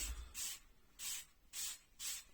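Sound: aerosol spray of mould remover being sprayed

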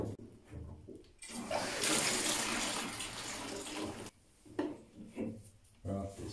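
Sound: water running from bath tap into bucket

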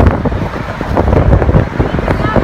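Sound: strong wind on a bridge

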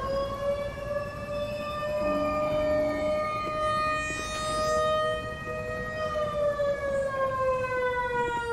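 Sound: siren ambience in the video game Black Mesa

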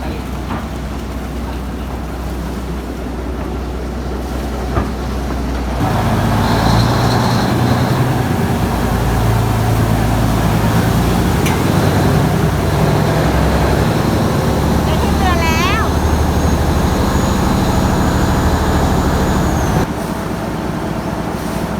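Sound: passenger boat engine running on river ride

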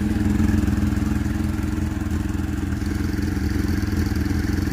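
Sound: 1997 Suzuki GSX-R motorcycle engine running after throttle body clean

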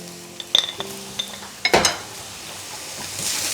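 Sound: stirring vegetables with pepper in a pan

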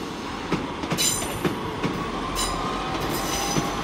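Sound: diesel passenger train passing through station

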